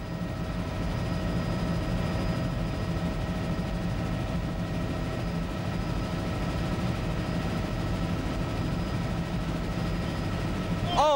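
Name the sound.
helicopter flying over water ski race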